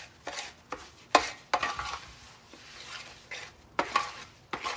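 Gozinaki nuts are mixed into hot honey in a pan just taken off the heat, making a run of irregular spoon scrapes and knocks against the pan over a faint background.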